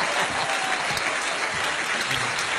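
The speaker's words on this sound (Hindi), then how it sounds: "सुन रहा है बच्चन जी, कितना ताली पड़ रहा है" Dense, sustained applause from a game-show studio audience, steady and loud throughout with no break, filling the whole stretch.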